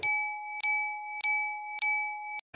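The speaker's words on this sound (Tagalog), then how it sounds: "Alam nyo ba kung ano ang tunog ng kampana?" A bell rings four times in an even rhythm, each clear metallic ding ringing on with a bright sustained tone before the next strike.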